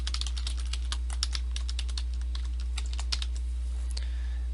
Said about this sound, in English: type in your website name.